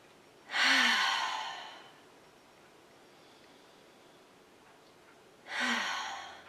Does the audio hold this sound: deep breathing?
yes